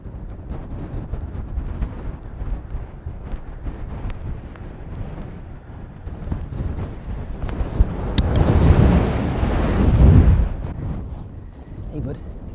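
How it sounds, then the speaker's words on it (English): Heavy rain falls outdoors in the Lake District, a steady loud hiss mixed with wind buffeting the microphone, swelling to its strongest toward the end; a voice speaks briefly. "That rain's a bit heavy now."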